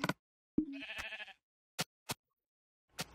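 A sheep in Minecraft on Xbox 360 gives one short wavering bleat, followed by a few brief clicks and taps spaced apart in otherwise quiet surroundings.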